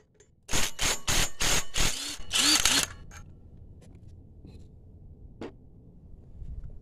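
A bolt is undone to remove a part from a 40 series driver: a quick burst of loud, close ratcheting or clicking strokes over about two seconds, then quieter handling noises and one sharp click near the end.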